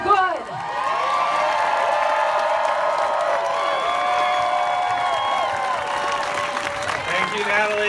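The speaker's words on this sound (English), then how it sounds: "And is that another round of applause for all these wonderful educators up here?" A large outdoor crowd at a medical freedom rally at the Capitol Building in Olympia, Washington, breaks into sustained applause, cheering and whoops, steady and loud throughout, with a voice rising over the noise near the end.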